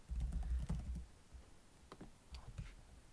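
Computer keyboard keys tapped in a short, quiet run of soft clicks after a low thumping opening, close but faint, with no talking.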